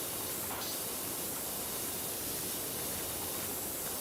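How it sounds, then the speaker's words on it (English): A pressure washer in the Powerwash Simulator video game sends out a gentle spray, a steady, even hiss of water that runs unbroken and at a moderate level. "Gentle spray, like a sprinkler."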